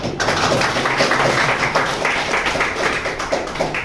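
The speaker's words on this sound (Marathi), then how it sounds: "एक टाळ्या धनाजीसाठी" An audience claps for Dhanaji, a dense, steady round of applause that fills the whole stretch, close and fairly loud.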